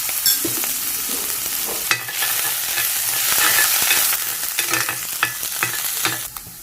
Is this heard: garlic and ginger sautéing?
yes